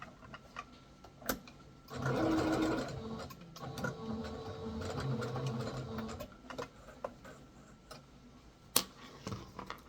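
A sewing machine stitches stretched fabric during shirring, a steady mechanical whir running for several seconds then easing off into quieter intermittent clicks and handling noises.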